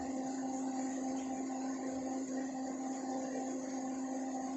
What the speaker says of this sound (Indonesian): kita blender, siap kita blender.